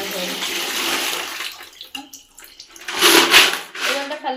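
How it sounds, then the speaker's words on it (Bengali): Dirty water gushes and splashes out while a small home aquarium is cleaned, a loud close pour that rises and falls, with voices talking over it. "দেখো কি নোংরা জল বেরোচ্ছে"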